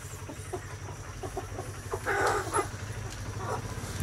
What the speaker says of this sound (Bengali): মুরগি আছে, হাঁস আছে,